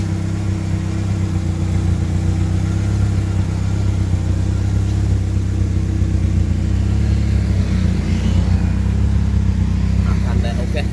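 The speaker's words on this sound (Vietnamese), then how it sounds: "Nó nghe giống như bô tăng tốc á." A Suzuki Baleno car engine runs steadily and loudly up close, its exhaust droning with a continuous low hum and a strong, even engine note throughout, with no clear rise in revs.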